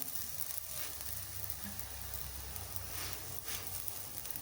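Masala akki roti, a rice flatbread with vegetables, sizzles steadily on a hot pan, a close, even hiss with faint crackles throughout.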